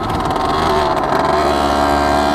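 A motorcycle engine runs steadily while riding, a loud, close, continuous buzzing drone with slight wavering in pitch and no talking.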